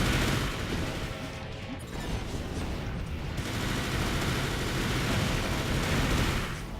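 Sustained machine gun fire from a mecha's twin machine guns in Armored Core for Answer, a dense continuous roar of rapid shots lasting several seconds with a brief dip partway through, loud and close with no talk.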